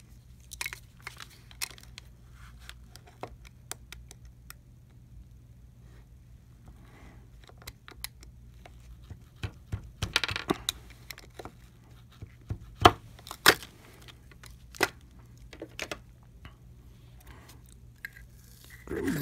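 A blade cuts the plastic black top off a Canon PG-240 ink cartridge, making scattered sharp cracks and crunchy snaps of varying loudness over a quiet steady hum.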